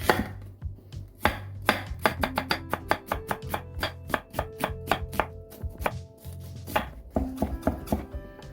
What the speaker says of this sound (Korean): 그 사이에 양파 4분의 1개 채를 만드세요.